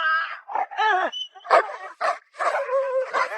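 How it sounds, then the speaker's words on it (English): Guard dog barks, yips and whimpers in a loud, close burst of excited calls, several sharp barks broken by whining cries, with no talking over it. "sent the guard dog charging forward"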